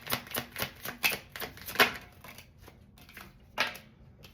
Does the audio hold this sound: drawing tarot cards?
yes